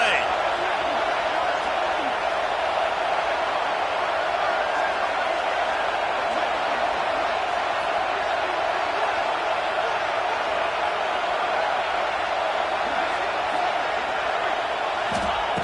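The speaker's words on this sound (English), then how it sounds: "This crowd bringing serious noise" A stadium crowd in an American football video game roars in a loud, unbroken wall of noise before a fourth-down play, with a commentator talking over it.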